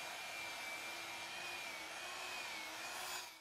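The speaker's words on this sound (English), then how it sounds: "after I borrowed a belt sander, the whole process of making holes into the coat went a lot faster" A belt sander grinds holes into the cloth of a costume coat, producing a steady close whirring drone with a thin high whine that holds throughout and eases off at the end.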